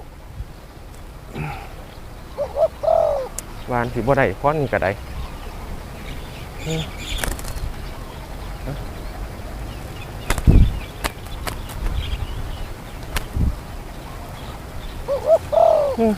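Soft, distant spotted dove cooing in repeated short phrases, with someone talking nearby and outdoor insect buzzing in the background.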